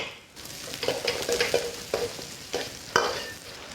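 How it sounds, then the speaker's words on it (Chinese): Pork intestines stir-fried in a wok with dried chilies, Sichuan peppercorns, ginger, scallion and garlic sizzle steadily, while a spatula scrapes and tosses in a series of sharp, irregular strokes close by. "肥肠煸炒至表皮金黄，并且开始鼓泡的时候，下干辣椒和干花椒，姜葱蒜壳儿"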